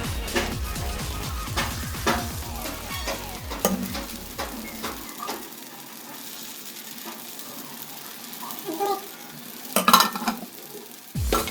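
Egg paddu batter sizzles steadily in a paddu pan, with a rapid run of stirring clicks and scrapes early on and a few louder clatters later, and no talking.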